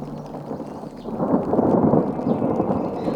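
Thunder rumbles through a thunderstorm over Alberta prairie wetlands, a low rolling swell that builds midway and stays loud, with no voices.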